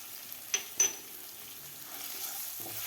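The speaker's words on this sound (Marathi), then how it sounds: "आता आलंसुद्धा आपल्याला व्यवस्थित परतून घ्यायचं आहे" Ginger, asafoetida and cumin sauté in a pan, a soft, quiet sizzle with a couple of sharp stirring clinks near the start and another light scrape toward the end.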